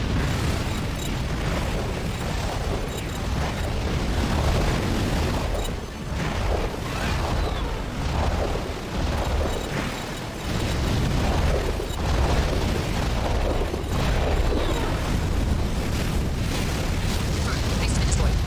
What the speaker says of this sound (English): Base has been destroyed. Mission complete.